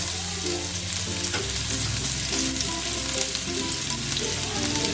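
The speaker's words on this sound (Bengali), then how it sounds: "এবার একটুখানি যে পেঁয়াজ কুচিয়ে রেখেছিলাম সেই পেঁয়াজটা আমি এর মধ্যে দিয়ে দিলাম" Chopped onion hits hot oil with tempering spices for a Bengali boal fish kalia, giving a steady, close, loud sizzle with occasional stirring scrapes throughout.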